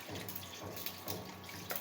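Water pours from a faucet into a cooking pot holding ginger-garlic paste and spices, a steady rushing splash with a few brief bursts, close by and without talk.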